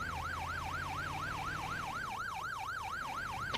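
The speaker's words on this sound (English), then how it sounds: "cut our siren off now" A police car siren in the GTA 5 video game wails in a fast, steady up-and-down yelp, loud and continuous, over a low engine rumble.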